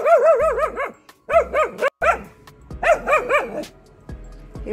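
A dog out on a walk near a house lets off loud, close bursts of high, yelping barks in quick runs of three to five, separated by short pauses.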